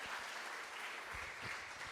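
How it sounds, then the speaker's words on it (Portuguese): Strong, continuous clapping from a congregation applauding during an evening church service, an even wash of hands with no voices over it. "Aplauda bem forte a Ele nessa noite."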